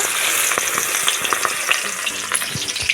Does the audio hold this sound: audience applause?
no